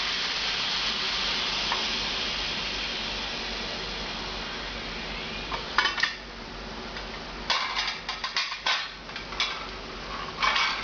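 A pressure cooker lid being cracked open on braising pork, heard as steady steam hiss and sizzle followed in the second half by several sharp metallic clanks and clatters of lid and pot.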